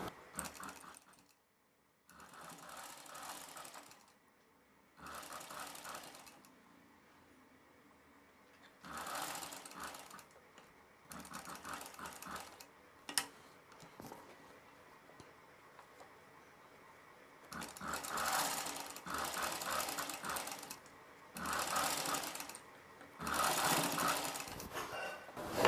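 A sewing machine stitching piping onto a blouse runs in several bursts of rapid, even needle chatter, separated by quiet pauses while the cloth is adjusted.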